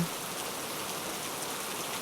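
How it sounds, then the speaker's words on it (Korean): Steady rain falls continuously as a soft, even hiss of drops on surfaces, close and unbroken, with no voices or other sounds over it. "빗소리 들으며 잠들어 보세요."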